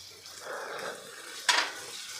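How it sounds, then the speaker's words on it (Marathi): Eggplant pieces for a spiced vangyachi bhaji are stirred with salt in a pan: a soft scraping shuffle, then one sharper, louder scrape of the spatula near the end. "आता हे सगळं आपण मिक्स करून घेऊ।"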